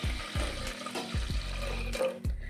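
Water splashes into a pot for making rasam with vadha narayana keerai, a close, gurgling pour marked by repeated low glugs and bursts in a home kitchen.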